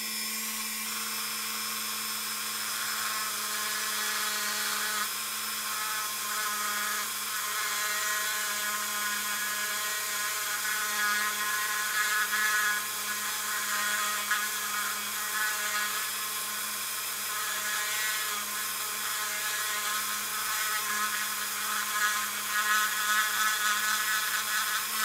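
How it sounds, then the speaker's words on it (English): A Dremel engraving bit grinds on a diecast metal model car, a steady high-pitched whine held close and loud for the whole stretch with no talking. "This is a Dremel brand engraving bit. This is good for metal, wood, whatever."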